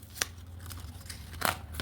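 Scissors snip open a coin package in a quiet room, giving a few sharp, separate cutting clicks.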